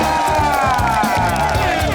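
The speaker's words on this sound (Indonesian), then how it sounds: "Baik, boleh kita berikan tepuk tangan buat kedua tim." A game show studio audience claps and cheers for both competing teams, a dense, steady wash of applause and crowd noise throughout.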